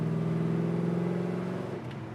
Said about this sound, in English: Lay it on the throttle and it's 40 to 60 in no time